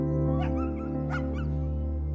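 A small rescued dog confined in a crowded crate gives a few high yips and whimpers over a steady low hum, close and fairly loud.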